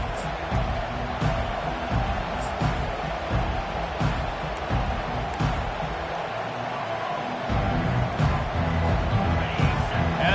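A packed Clemson football stadium crowd roars in a steady, dense wash of noise that holds loud and even throughout, swelling slightly near the end.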